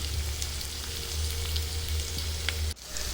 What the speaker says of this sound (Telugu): ఈ మునక్కాయ ముక్కల్ని ఒక 10 నిమిషాలు ఫ్రై అవ్వనివ్వాలి